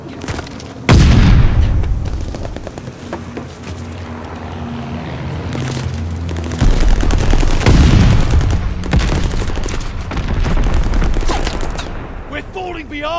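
Gunfire in a Call of Duty Vanguard hardpoint match, with dense overlapping rifle and machine-gun bursts, loud booms and explosions, continuous and close throughout, with game voice chatter mixed under the shooting.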